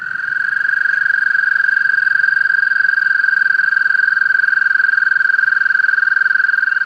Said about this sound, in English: I started to hear even more American toads, all making the same sound from the swamp